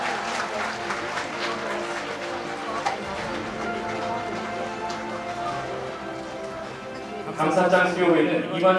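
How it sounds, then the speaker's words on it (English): Audience applause at a world peace commemoration ceremony, honoring Korean Marine Corps Vietnam veterans: a sustained round of clapping from a large crowd at moderate level, swelling louder near the end, with a voice speaking over it. "Ladies and gentlemen, please give them a big round of applause"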